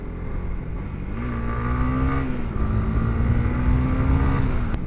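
A Honda CB150X motorcycle climbs a mountain road, its engine droning close and steady with a slowly rising pitch as it pulls, under constant wind rush.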